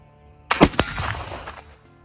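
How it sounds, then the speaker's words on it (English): A single gunshot fired with 24-hour wet-milled black powder, a sharp loud blast followed by a quick second crack and a decaying rumble lasting about a second, heard alone after brief quiet. "So here is shot number 1 with our 24-hour wet mill powder"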